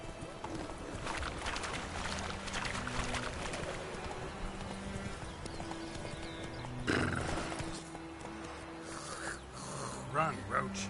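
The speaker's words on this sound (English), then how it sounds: "Go, go. Run, Roach." Roach, a horse in The Witcher 3 video game, gallops with rapid rhythmic hoofbeats, with whinnies and snorts mixed in, over ambient game sound for the full stretch.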